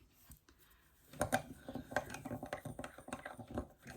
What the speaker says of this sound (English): And then mix it well.